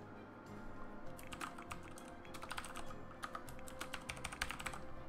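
Steady typing on a computer keyboard during a Sims 4 session, with clustered bursts of key clicks over a low background hum, close and moderately loud with no talking.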